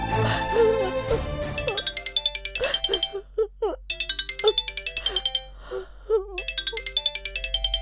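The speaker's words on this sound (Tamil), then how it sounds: "உங்க அம்மா ஃபோன் பண்றாங்க" A mobile phone ringtone plays a bright, repeating electronic chime melody in a Tamil television serial scene, loud and rhythmic, with a few voices over it at the start.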